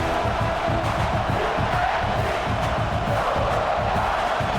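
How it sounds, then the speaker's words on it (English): Stadium crowd in EA Sports College Football 26 during an Oklahoma Sooners game, a loud, dense, continuous roar of cheering and yelling that holds steady throughout. "This crowd going to try to make life miserable for these guys."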